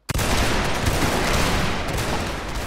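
A rolling volley of musket-style rifle fire in a linebattle video game erupts almost at once and holds as a thick, sustained crackle for a couple of seconds, with no talking.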